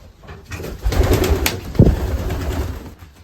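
Soft racing pigeon coos rise and fall over a background of shuffling and rustling, with a low throaty burst near the middle.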